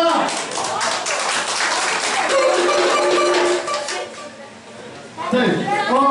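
Audience applause at a Bulgarian celebration where cash gifts are announced, a dense crowd clapping steadily for several seconds with some voices mixed in, briefly thinning before swelling again.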